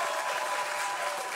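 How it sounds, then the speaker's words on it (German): A studio audience at a televised singing-competition blind audition gives brief, dense, even applause, a full steady wash of clapping heard alone. "Erstmal macht mal ein bisschen Applaus hier für den Bruder."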